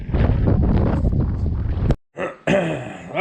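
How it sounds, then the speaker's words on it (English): Strong wind buffets the microphone outdoors on a farm, a loud, rough rumble that drops out briefly before gusting back in with whistling tones. "It's windier than a bitch."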